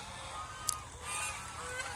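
Chinese geese honking nearby, a few short calls rising over a steady noisy outdoor background, with no talk.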